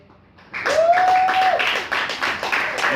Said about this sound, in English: Give a round of applause for Derek